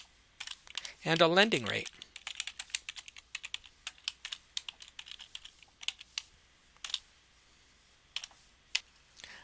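Computer keyboard typing entering a lending rate into a spreadsheet, a quick run of clicking keystrokes scattered across the clip, close and fairly quiet, with a brief stretch of talking near the start.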